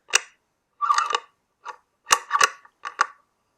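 A 17HMR Lithgow rifle's bolt is cycled to chamber a round outdoors, a close sequence of sharp metallic clicks and sliding clacks spread over a few seconds with quiet gaps between.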